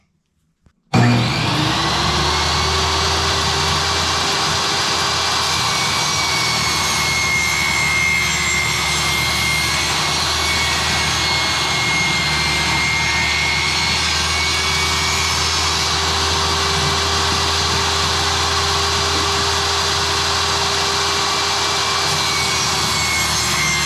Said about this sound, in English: We're going to cut the top off on the table saw because right now it's just a solid box